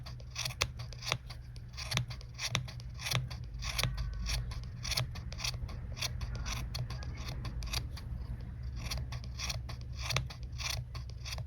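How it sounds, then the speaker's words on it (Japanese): Scissors snip through yarn to trim a round pom-pom, a rapid run of close, crisp cuts with short pauses between bursts and no talking. "ハサミの刃のところに当たる毛糸がなくなってきて、切るところがなくなる感じになるのがわかると思います。"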